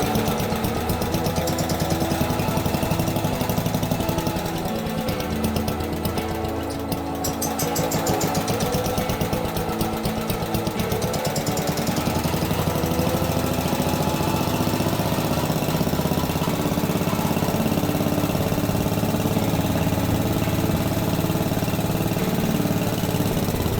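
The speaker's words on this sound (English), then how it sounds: "we're going to up the idle speed even more with the set screw. Because we want this thing to run without a choke" A B-10 engine runs continuously at raised idle, a steady close mechanical chugging with a rough, knocking texture that holds for the whole stretch without talk.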